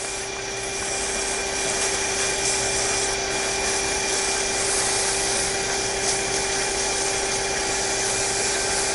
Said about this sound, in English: Not very aggressive sanding on this one.